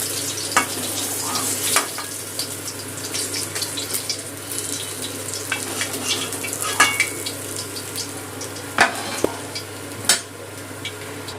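Katla fish frying in oil, a steady close sizzle with scattered crackles and pops that grow sharper toward the end.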